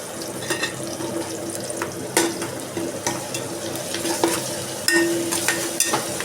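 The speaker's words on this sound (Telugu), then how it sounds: "పచ్చివాసన పోయేంత వరకు బాగా వేయించుదామండి" Ginger garlic paste frying in a pan, sizzling steadily while a spoon stirs and scrapes through it in repeated strokes, close and fairly loud, with occasional sharper clinks of metal on the pan.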